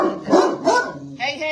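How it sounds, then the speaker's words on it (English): A dog barks a few quick times close by, short sharp bursts in a brief span. "I bet it's my flaming dog"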